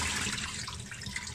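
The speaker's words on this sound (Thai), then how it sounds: "ทีนี้ก็ล้างน้ำเปล่าเบามือ" Running tap water rinses raw shrimp gently in a kitchen sink for pickling in fish sauce, a steady close splashing wash with no talk.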